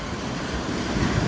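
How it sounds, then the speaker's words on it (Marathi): Sea waves surging onto a Goa beach around people wading in the shallows, a brief close rush of breaking water mixed with wind buffeting the microphone. "आता मोठी लाट आली, डायरेक्ट डुबणार आहे आपण."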